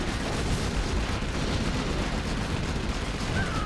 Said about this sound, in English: carpet bomb is hit there